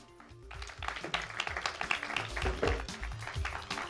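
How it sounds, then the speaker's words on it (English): An audience at a doctoral research talk competition breaks into applause, a faint crowd of clapping that swells after a brief pause and stays steady. "Please, a round of applause."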